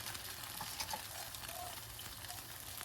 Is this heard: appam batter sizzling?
yes